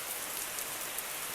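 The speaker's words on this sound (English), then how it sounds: "I love it when it rains." Rain falls as a steady, even hiss of drops striking surfaces, with faint brief patters on top and no voices.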